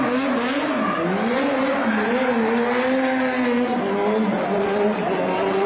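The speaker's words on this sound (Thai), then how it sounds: "สไลด์มาเลยนะฮะเป็นรถ3ล้อนะครับ" A three-wheeled vehicle slides and spins with squealing, skidding tires, a loud sustained wavering screech whose pitch rises and falls over several seconds.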